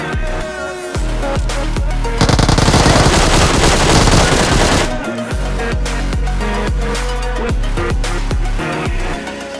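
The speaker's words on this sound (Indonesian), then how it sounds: "Ketika dia berbalik, aku akan langsung memberikan peluru yang gak bisa dia hindari." Rapid automatic gunfire in the battle royale game PUBG, bursts of close loud shots with a dense sustained volley in the middle, over background music.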